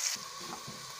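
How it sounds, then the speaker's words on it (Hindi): Chopped onions fry lightly in oil for dal, a close, even hiss of sizzling with no voices. "प्याज को हम हल्का ब्राउन करेंगे"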